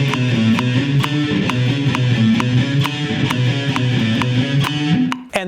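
A guitar plays a slow, even sequence of notes, each ringing out clearly, with a steady unhurried pace and no talking.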